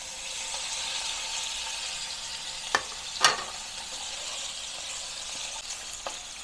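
Vegetables sauté in shrimp paste in a hot pan, giving a steady broad sizzle with a few sharp clicks and scrapes from stirring.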